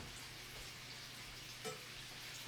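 Bacon frying in a pan on a home stove, a steady dense sizzle with small pops, close and fairly quiet, no talk.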